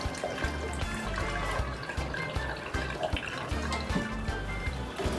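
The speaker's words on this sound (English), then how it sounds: "So let us add it water cup by cup." Water poured cup by cup into bun dough in a home kitchen, a continuous trickling, splashing pour with some dripping, fairly close and steady, with no talk over it.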